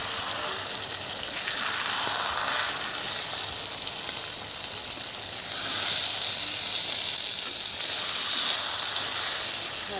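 Mourola fish bati chorchori is stirred in a pan, giving a continuous bright sizzle with slow scraping sweeps of a spatula that swell and fade every couple of seconds, close by with no speech.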